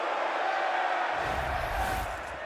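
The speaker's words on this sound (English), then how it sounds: "First cheer I've heard for Apex all week." Crowd cheering at an esports match, Counter-Strike semi-finals at the BLAST.tv Austin Major 2025, a broad roar of arena noise that swells and stays loud throughout.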